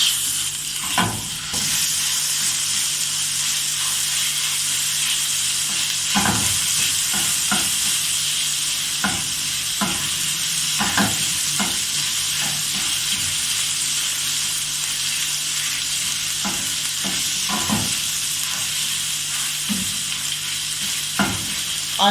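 Garlic frying in hot oil in a home kitchen, a steady bright sizzle with intermittent scraping stir strokes from a spoon against the pan, close and continuous.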